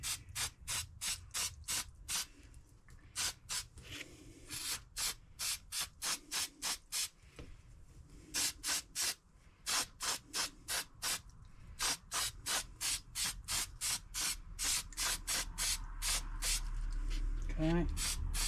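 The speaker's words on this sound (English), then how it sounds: "I'm just going to take my K&N air filter oil, and I'm just going to spray it." Rapid bursts of K&N air filter oil spray hiss in quick succession onto a 2022 Harley-Davidson Street Bob 114 air filter, short rhythmic squirts close up, with a voice speaking faintly underneath.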